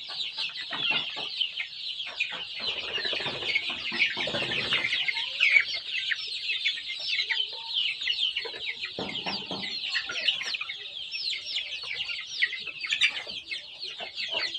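Native chickens cluck and cheep continuously while being fed mustard greens. The busy, high-pitched chatter is close by, with scattered scratching and rustling underneath.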